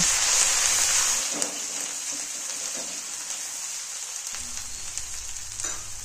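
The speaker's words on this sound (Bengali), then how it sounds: "জিরে গুঁড়ো আর শুকনো লঙ্কার বাটা দিয়ে দেব। এবার এগুলিকে ভালো করে কষিয়ে নেব।" Ground cumin and dried chili paste fry in a pan with a steady, close sizzle running throughout, joined by faint stirring scrapes and a few small clinks, with no talking.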